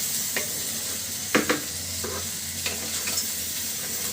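Rice frying in oil for homemade beef polao, stirred with a spoon: a continuous soft sizzle broken by a few sharp scrapes and clinks against the pot, close by, with no talking.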